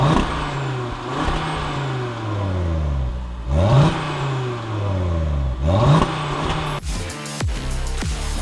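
A 2022 Audi RS3 with the optional RS sports exhaust is revved hard several times. Each rev climbs and then falls back with a crackling, snarling edge, loud and close, and no one speaks.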